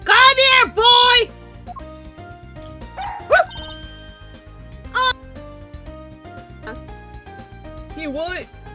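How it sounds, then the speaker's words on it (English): Cartoonish dog yips and barks from the Ace Attorney Investigations 2 video game, a few short bright bursts with a whimpering tone, heard over game music and chatter from players. "That's a dog."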